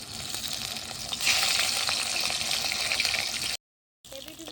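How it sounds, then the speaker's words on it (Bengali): Pre-fried rohu fish pieces are lightly re-fried in a pan of oil. A continuous close crackling sizzle grows louder after the first second, cuts out briefly near the end, then resumes. "মাছগুলো আবারও হালকায় পিড়িপিড় ভেজে নেব।"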